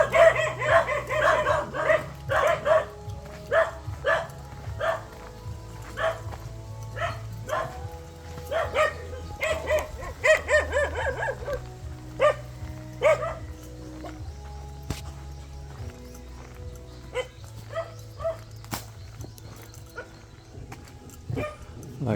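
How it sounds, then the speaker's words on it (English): A dog on a hiking trail in Dauin, Philippines barks repeatedly in bursts, near and fairly loud at first and then more scattered, with faint voices and other background sounds between the barks. "there's a barky dog here too."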